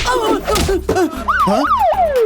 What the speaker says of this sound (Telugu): ఈ సైరన్ తో పో నేను నిన్ను ఫాలో అవుతాను